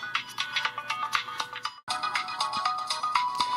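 Music plays through the rear speaker of a Samsung Pixon12 camera phone, a bright, tinny tune with rapid repeated notes, a brief cut to silence midway, then resuming just as loud.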